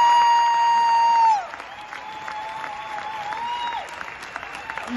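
A circus crowd at the Festival Mondial du Cirque claps steadily in loud, sustained applause as a female duo enters the ring, over tonal music that drops away partway through.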